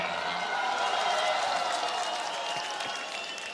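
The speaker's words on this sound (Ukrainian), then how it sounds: "Ваші оплески" Audience applause at a New Year orchestra concert by the Kyiv Fantastic Orchestra, a dense wash of clapping from a large crowd that stays steady and loud, then eases slightly toward the end.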